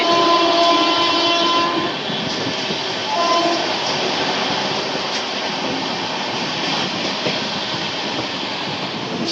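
The 13115 Sealdah–Jalpaiguri Road Humsafar Express rushes past at speed near Kalyani, its horn sounding briefly at the start over a continuous roar of wheels and rattling carriages.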